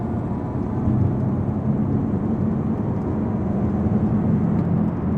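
A Camaro ZL1 with a DSX supercharger lid pulls away from a stoplight, its engine a steady, muffled drone heard from inside the cabin, holding even and fairly loud throughout with no rising whine standing out.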